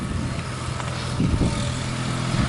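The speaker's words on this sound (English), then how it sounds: "Danny is scraping the arena now" A tractor or similar ranch vehicle scrapes and smooths a cattle-worked dirt arena at the Diamond M Ranch, its engine a steady, moderately close rumble with a few heavier surges.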